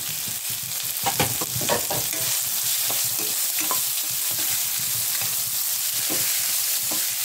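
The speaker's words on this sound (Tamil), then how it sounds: "வெங்காயம் நல்லா பொரியிட்டு" Onions and curry leaves frying in hot oil for a puliyodharai tamarind rice mix, a steady close sizzle with scattered pops and crackles throughout and no talking.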